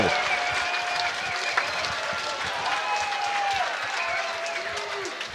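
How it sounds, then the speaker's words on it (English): A crowd at a CageZilla cage-fighting event applauds both fighters, a steady roar of clapping and cheering with raised voices and whistle-like tones mixed in, loud and continuous. "Let's hear a big round of applause for both these fighters putting on one hell of a show."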